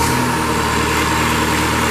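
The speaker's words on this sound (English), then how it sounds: "We're going to take this Kubota and fire up to life." A Kubota engine in a 2005 Moffett M55PL truck-mounted forklift runs at a steady, close, loud idle, a continuous mechanical drone with no break.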